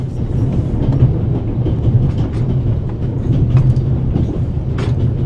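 Steady rumble of a train carriage in the video game The Raven: Legacy of a Master Thief, a continuous loud rolling drone with faint rhythmic clicks of wheels on track.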